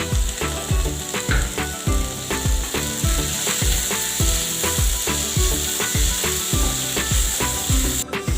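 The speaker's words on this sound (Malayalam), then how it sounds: "ആവശ്യത്തിന് ഉപ്പ് ചേർത്ത് നല്ലോണം ഇളക്കാം." Spoon stirring potato curry in a pan after salt is added: steady, rhythmic scraping and clacking strokes, close and fairly loud, with a faint sizzle underneath and no talking.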